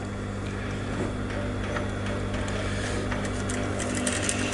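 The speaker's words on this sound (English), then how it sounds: "I'm sewing." A sewing machine stitches fabric in a steady, continuous mechanical whir at close range, holding an even level throughout with faint ticking on top and no talk.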